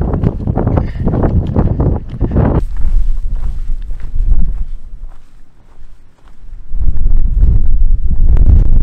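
Strong gusting wind buffets the microphone on an exposed ridge near a mountain summit in Banff National Park, roaring loud and close in waves that briefly ease before surging again.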